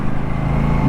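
An Aprilia RS457 motorcycle engine revs, a loud, close, continuous buzzing drone throughout the brief moment.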